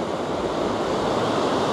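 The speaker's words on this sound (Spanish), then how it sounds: "el problema es acá, miren, donde revientan las olas" Ocean waves breaking on a beach at El Majahual, El Salvador, a continuous loud roar of surf and wash close by, with some wind noise and no talking.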